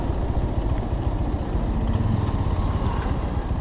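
A GPX Demon motorcycle rides along an open road toward a village market, its engine giving a steady, loud, unbroken rumble with constant road and wind roar throughout.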